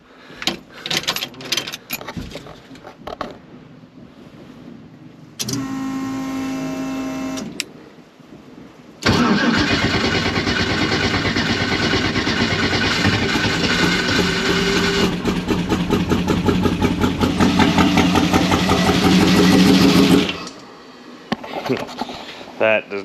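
A newly installed car motor cranks with clicks and whirring, then catches and runs loudly at a steady idle for about ten seconds before shutting off. A voice talks briefly near the start.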